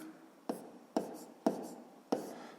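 Pen strokes on paper while working a fifth-grade math exercise: four distinct close scratching marks at steady intervals, each a short sharp tap with a fading scrape, over a quiet room with no talk.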